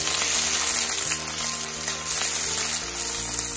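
Garlic sautés in hot oil with a constant close sizzle and crackle, a steady bright hiss with no talking.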